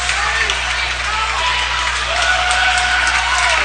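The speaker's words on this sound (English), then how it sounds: "The Chaska crowd is into it. The students are on their feet, as are the parents. It is loud." A loud crowd of students and parents at a high school boys' hockey playoff game in Chaska cheers and roars steadily, a dense wash of noise from an arena.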